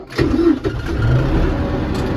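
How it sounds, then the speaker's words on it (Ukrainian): A tractor engine cranks and catches, turning over roughly and then settling into a steady mid-pitched running rumble, loud and close. "Так, ми в тракторі. Заводимо."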